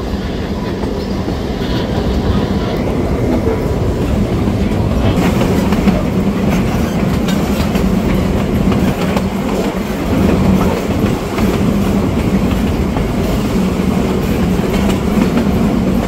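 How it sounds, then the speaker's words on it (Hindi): A large passenger train in Australia runs along the rails with a loud, continuous rumble and steady clickety-clack of wheels over track joints, heard close up from on board with no talking. "बड़ी ट्रेन है।"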